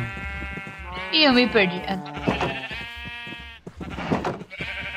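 Several sheep bleat in the Minecraft video game, with wavering, nasal calls coming in a few close bursts while a person speaks over them.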